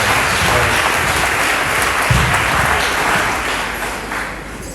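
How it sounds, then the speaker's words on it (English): Loud, sustained applause from a crowd at a Ghana Education Service school groundbreaking event, honoring the regional director; dense clapping fills the whole stretch and eases slightly toward the end. "So please give her a hand. Very loud round of applause."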